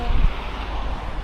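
At Pahalgam, a mountain river rushes with a broad, continuous wash of flowing water, fairly loud and close, with no voices over it.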